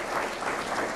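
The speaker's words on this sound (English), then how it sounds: "nice warm round of applause for this gentleman out of Calgary, Alberta" A crowd applauds warmly at a 1992 Players Ltd GM motorsports awards banquet, a dense, even burst of clapping filling the room for a short moment.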